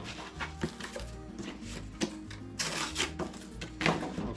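Cardboard being cut by hand for a box, with uneven scraping and crunching strokes at close range over a cluttered, busy background.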